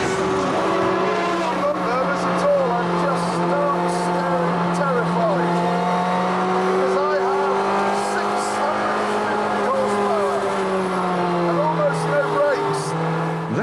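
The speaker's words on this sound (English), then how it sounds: "It may be old F1 technology, but I still hit 160 on the straight." An old Formula One race car screams along at high speed on a track with a chicane, its engine a loud, sustained howl rising and falling through gear changes, heard from onboard with someone talking over it.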